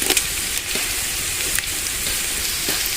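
Garlic, kalonji, onion and cumin fry in hot oil for a chicken, spinach and potato curry, a steady close crackling sizzle with a few sharper pops and spatters, no talking.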